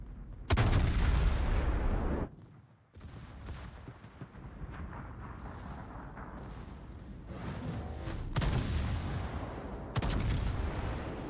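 Heavy battleship gunfire in World of Warships, with a loud booming broadside salvo near the start, rumbling combat in between and more big blasts later, all close and forceful.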